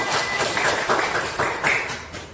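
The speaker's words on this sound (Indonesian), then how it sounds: "Tepuk tangan." A class of schoolchildren claps hands in an elementary classroom, a run of sharp, uneven clap bursts spaced roughly a quarter to half second apart, moderately loud and close with a roomy backdrop.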